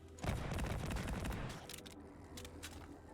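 Rapid gunfire from blasting at snails in Farworld Pioneers, a burst of fast, loud shots lasting about a second and a half, then fading into a few scattered sharper reports.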